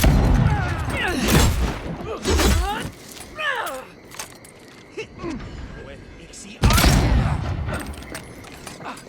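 Gunfire and combat noise in the fantasy video game Avowed, with bursts of loud shots and impacts near the start, around two seconds and again near seven seconds, mixed with clanking and strained vocal grunts.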